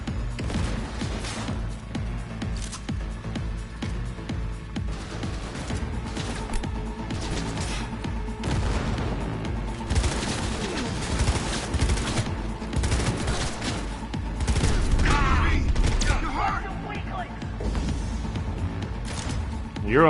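Sustained gunfire from a firefight in the video game Cyberpunk 2077, with dense rapid bursts and crashing impacts running throughout and growing heavier toward the end, layered over a steady background score.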